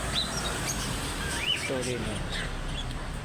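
Lovebirds in a Cavite aviary give several thin, high chirps and short calls, scattered and fairly close, over a steady low background while someone talks nearby.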